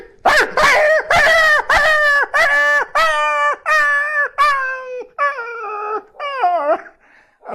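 A mimicry artist vocally imitates a dog yelping after being struck with a stone, a run of about ten loud, sharp, rising-and-falling yelps in quick succession that grow shorter and more whimpering toward the end.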